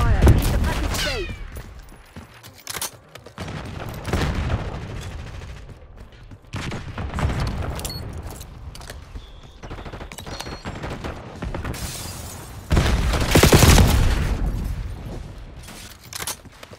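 Rapid gunfire bursts from Black Ops 6 beta gameplay, with loud sustained volleys and machine-gun fire clustered in several dense stretches, while in-game voices call out between the shots.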